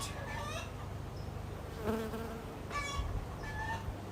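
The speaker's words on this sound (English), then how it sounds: "I'm trying to get all the bees off of it" Honey bees buzz in a steady, close drone, with some brief chirps and clucks mixed into the background.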